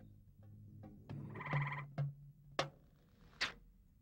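Several frogs in a garden give short croaking, gobbling calls, some bursts low and drawn out and others sharp, spaced irregularly over a faint quiet background and fairly close.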